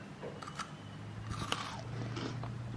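Someone bites into and chews a crunchy wafer chocolate bar, giving soft crunching and chewing sounds at close range in a quiet room, with no speech.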